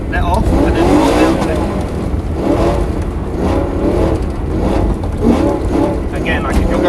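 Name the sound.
rear-wheel-drive car drifting sideways on throttle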